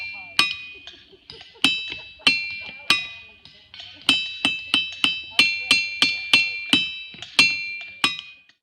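Ringing rocks in a Pennsylvania park struck with a hammer give off a series of sharp metallic, bell-like clinks with bright sustained tones. Roughly sixteen strikes come at an uneven, quickening pace, each ring decaying before the next. No talk is heard.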